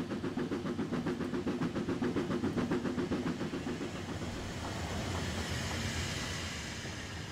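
An LMS Stanier Mogul steam locomotive in Train Simulator 2020 chuffs in a rapid, rhythmic beat that fades into a steady hiss and rolling rail noise, heard alone without talk.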